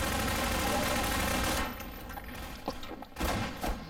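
Shotgun blasts from the video game Half-Life 2: a dense, loud burst of gunfire for about a second and a half, then several sharper single shots and thuds scattered over the remaining seconds.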